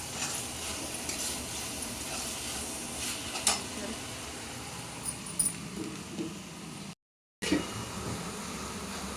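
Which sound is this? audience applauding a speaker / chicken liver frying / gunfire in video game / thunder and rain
chicken liver frying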